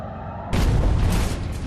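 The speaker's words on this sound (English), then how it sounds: "an aerial depth charge detonates off the port side" After a low rumbling hum, a sudden heavy boom of an aerial depth charge detonating near a submarine bursts in and continues as a loud, sustained roaring blast.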